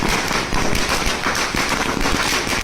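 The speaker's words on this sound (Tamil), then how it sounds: "பல இடங்களில் பட்டாசு வெடித்ததாக கூறப்படுகிறது" Firecrackers bursting in a street celebration, a dense, loud, continuous crackle of overlapping pops and bangs with no clear gaps.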